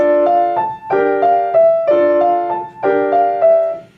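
A piano phrase in a fairly high register, repeated chord patterns with sustained notes, played clearly and alone at a steady moderate pace.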